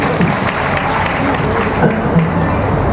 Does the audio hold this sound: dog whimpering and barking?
no